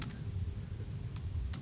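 Fast typing on a computer keyboard, a short burst of light key clicks over a low steady room hum, with no voices.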